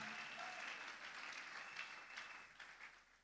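A church congregation applauds steadily during a Sunday service, a dense wash of clapping from many hands that holds evenly throughout and eases slightly toward the end.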